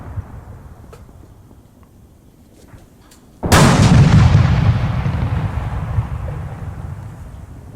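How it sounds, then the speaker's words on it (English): Artillery fire from the Arma 3 video game arrives as one sudden, heavy boom after a quiet stretch, followed by a long rumbling roar that slowly decays over several seconds. "was the artillery firing on this?"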